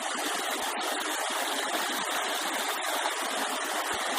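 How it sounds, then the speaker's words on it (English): Creek water rushes steadily after heavy rain in spring near Occidental, California, a dense, continuous broadband roar with no pauses or voices. "I love the sound of water freely running."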